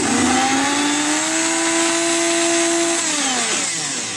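A motorized stick blender hums loudly and steadily, bogged down in thick liquid soap, then its pitch sags and winds down near the end.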